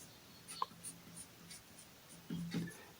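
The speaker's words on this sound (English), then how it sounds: "We press the pencil very hard onto the paper." A pencil pressed hard onto paper while drawing facial features, giving soft, close scratchy strokes in short bursts with a firmer, louder rasping stroke near the end.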